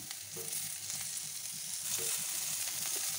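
Tomatoes hitting hot oil in a pan after onions, frying for an upma-style dish: a steady close sizzle with a few faint stirring knocks, no talk.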